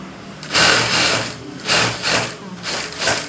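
Sewing machine stitching blouse lining in bursts, each run of rapid needle clatter lasting about a second with short pauses between, close and fairly loud with no voices.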